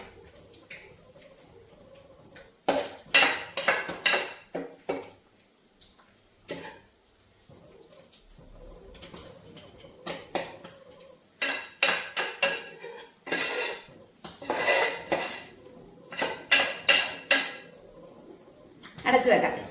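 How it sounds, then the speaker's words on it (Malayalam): A pot of food is stirred and covered with its lid, a run of clattering metal knocks and scrapes in irregular bursts separated by quiet gaps. "ഇടയ്ക്കിടയ്ക്ക് ഇളക്കി അടച്ചു കൊടുക്കണം കേട്ടോ"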